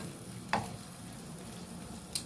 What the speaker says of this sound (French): on va laisser cuire un peu les oignons et la tomate